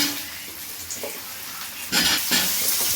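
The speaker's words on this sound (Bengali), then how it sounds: "এখন তরকারি চাপা আমি জিরে দিয়ে দিচ্ছি আলু দিয়ে দিচ্ছি" Cumin seeds and potatoes hit hot oil for a Bengali curry with rohu fish and cauliflower, giving a steady broadband sizzle that swells sharply near the end as the potatoes go in, with no talk.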